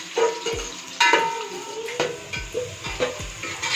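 Chopped onion fries in a pan, a continuous sizzle broken by repeated knocks and scrapes from a spoon against the metal, close and moderately loud.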